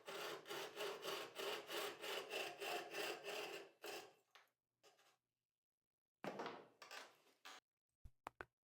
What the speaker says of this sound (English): When those cuts are done, you can now turn the work so that you can cut the base of the little triangular waist pieces.